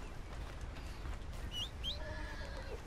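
A horse whinnies faintly in Red Dead Redemption 2, a short high rising neigh over quiet outdoor ambience with soft hoof clops and distant birds.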